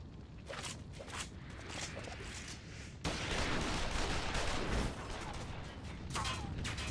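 Gunfire in a Final Fantasy XIV scene, a dense clattering volley of shots over game ambience that swells louder partway through, with no clear single reports standing out.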